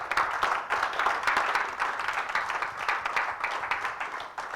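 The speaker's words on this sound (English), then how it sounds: "I'd like everyone just acknowledge that and give us a round of applause" An audience at a speaking event applauds, a dense, steady wash of many hands clapping that holds at an even, fairly loud level.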